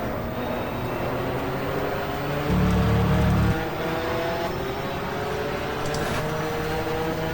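A 1987 British Touring Car Championship race car at Silverstone drones steadily through the clip, its engine note shifting as it drops into third gear, with a brief louder burst near the middle under constant track and wind noise.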